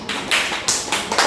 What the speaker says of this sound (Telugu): నవ్యకి, సిరికి క్లాప్స్ కొట్టండి.